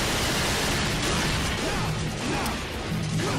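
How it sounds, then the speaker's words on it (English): Harsh, continuous broadband static with a stuttering, glitchy buzz running throughout, loud and unbroken like a malfunctioning audio loop, from a crashing sound engine in Devil May Cry 2 on PS2. "It sounds like the sound engine is crashing."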